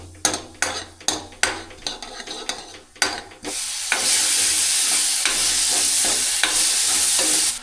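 A few sharp clinks of a utensil against a pan, then a sudden loud, steady sizzle as spices for a dal tempering hit hot oil and keep frying.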